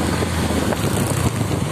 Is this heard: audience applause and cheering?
no